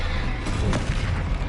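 A Confringo spell explosion in Hogwarts Legacy, a deep, loud boom swelling over a short burst with low rumble.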